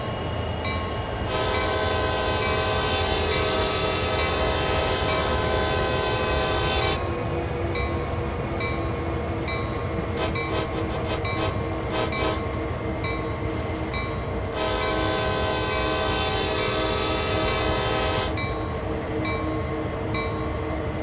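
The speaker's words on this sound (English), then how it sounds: "they need the bell to remind people that the train is there and it's moving" An American train sounds its horn in long sustained blasts, separated by a gap, over a constant rumble of the moving train and a persistent ringing bell, loud and close throughout.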